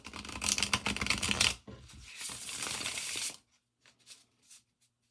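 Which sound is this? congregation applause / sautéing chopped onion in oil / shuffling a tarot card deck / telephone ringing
shuffling a tarot card deck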